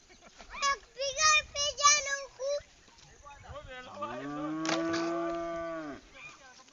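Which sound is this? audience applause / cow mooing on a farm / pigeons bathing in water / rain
cow mooing on a farm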